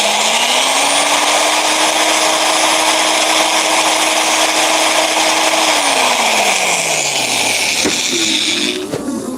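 A power tool whines loudly and steadily up close, its motor pitch holding then winding down near the end.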